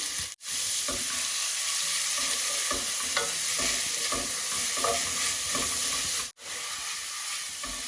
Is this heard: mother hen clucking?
no